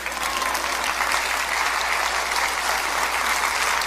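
A church congregation applauds during a Spanish-language sermon, giving steady, dense clapping that holds at an even level throughout, with no voices over it.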